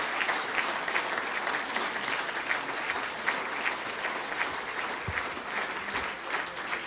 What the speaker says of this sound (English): join me in giving these gentlemen a round of applause?